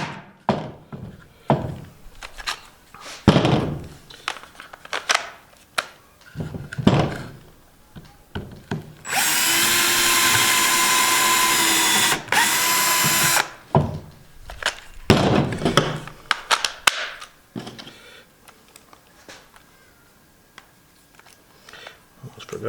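A power drill drives a screw into scrap material for a homemade tool, one continuous buzzing run of about four seconds with a brief dip midway. Scattered knocks, taps and workshop handling thumps come before and after it.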